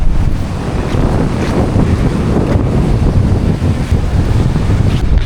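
Ocean waves break continuously on a beach in Thailand, a loud, dense roar of surf with heavy wind buffeting the microphone and no voices.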